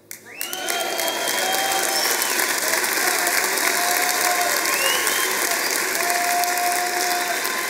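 A church congregation breaks into loud applause after a sermon, sustained vigorous clapping with a few cheers rising quickly and holding steady for around seven seconds.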